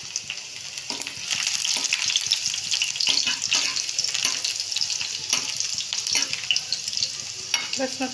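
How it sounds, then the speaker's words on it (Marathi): Finely chopped garlic frying in hot oil, a bright close sizzle punctuated by irregular scraping stirs of a spoon against the pan, moderately loud with no talking. "तेल तापलं की त्याच्यामध्ये बारीक चिरलेला लसूण घालायचा."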